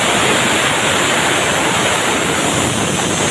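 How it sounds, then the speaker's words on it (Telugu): Starch water drains off a pot of cooked rice in a loud, continuous rushing pour heard up close, with no break for its whole length. "ఇదిగోండి, ఇలా వాటర్ అంతా తీసేస్తారు"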